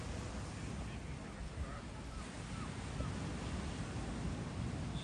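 Surf at Trindade beach on a forested Atlantic coast roars in a steady broadband wash, with wind buffeting the microphone throughout and no distinct individual wave breaks.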